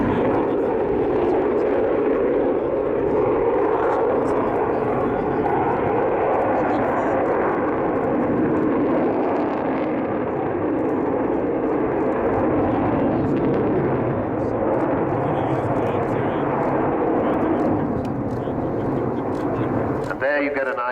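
An Avro Vulcan jet bomber roars overhead at an airshow, its loud engine rumble sustained and swelling over a long pass, with a voice talking over it.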